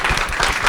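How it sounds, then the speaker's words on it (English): Film festival audience applauding the festival team at a panel event, a dense burst of many hands clapping together, fairly loud and close, with no talk over it. "Let's give them a round of applause."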